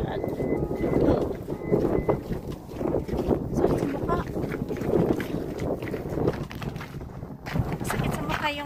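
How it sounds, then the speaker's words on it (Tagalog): Strong wind buffets a microphone outdoors, producing a rough, gusting rumble that rises and falls throughout while a person talks over it. "Sakit sa mukha yung hampas ng hangin."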